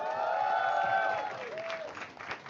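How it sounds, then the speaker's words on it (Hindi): A studio audience on a comedy talent show claps and cheers continuously, with a tonal whoop-like voice and musical tones riding over the applause. "भाई विशाल ददलानी के लिए भी तालियां हो जाए यार"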